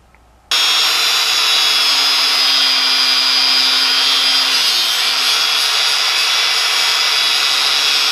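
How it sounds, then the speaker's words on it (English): A power tool bursts on and cuts through the end of a threaded bolt next to its nut, a loud steady high-pitched grinding whine that holds for about eight seconds, close by and alone. "I want to cut it right at the end of the nut"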